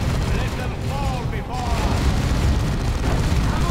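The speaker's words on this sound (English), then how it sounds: "This las cannon's still here, still fighting, still taking shots at Terminators" A lascannon fires on Terminators in the video game Dawn of War II, its deep booming blasts blending into constant battle rumble while a voice talks over the fighting.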